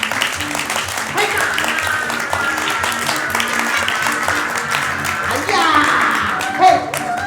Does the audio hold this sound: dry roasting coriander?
no